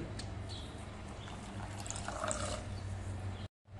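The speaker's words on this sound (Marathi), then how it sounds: "आता आमटी आपल्याला किती पातळ किंवा घट्ट करायचे त्याच्या अंदाजाने पाणी घालायचं." Water poured into a pot of pigeon pea amti curry, a steady close pouring wash lasting about three and a half seconds before stopping abruptly.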